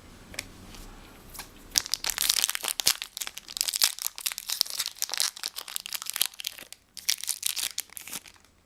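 A Pokémon Platinum Supreme Victors booster pack is torn open, loud crinkling and tearing foil wrapper close up, continuous rustling with brief pauses.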